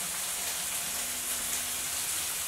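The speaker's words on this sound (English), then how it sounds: "I should be able to get some more rain outside. This is a rarity for us, actual rain." Steady rain falls outdoors in an arid area that rarely sees it, a continuous soft broadband patter and hiss of drops on surfaces with no voices.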